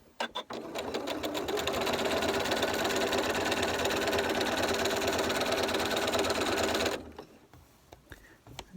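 A sewing machine runs at steady speed for about six seconds, stitching bias binding onto Halloween bunting pennants, with a loud, even mechanical whir and rapid needle clatter, then stops, leaving faint handling sounds.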